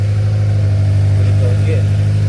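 A car engine with a newly installed clutch idles steadily right after a fresh battery goes in, a loud, even low drone with a constant rumble and no revving.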